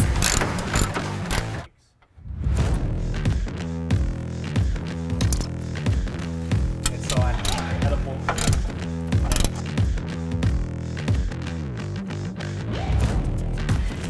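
Metal support braces being unbolted from the engine bay of a 2020-23 Chevrolet Silverado 1500 Duramax, giving a steady run of close ratchet clicks and mechanical clatter with one brief pause near the start.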